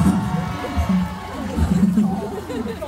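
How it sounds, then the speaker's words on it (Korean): A crowd at a grape festival concert in Yeongdong, South Korea, cheers and chatters loudly, with voices shouting and whooping over a steady, lively babble. "박수 한번 부탁드리겠습니다"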